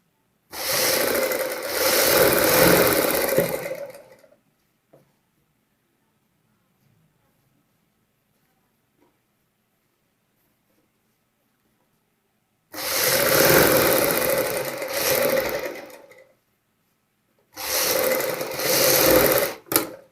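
Sewing machine stitching elastic into the waistband of palazzo pants, two clear runs of steady mechanical whirring separated by a long quiet pause, then a third shorter burst; close and fairly loud.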